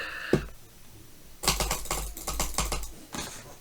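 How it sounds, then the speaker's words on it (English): Rapid bursts of clicking from a Glorious Model O Wireless computer mouse, dense close clatter in several quick runs with short gaps between them, no voices. "you could hear how fast I was clicking"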